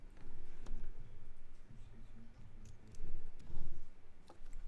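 Typing on a computer keyboard while entering a web address, a steady run of quick close clicks and taps with a few louder keystrokes mixed in.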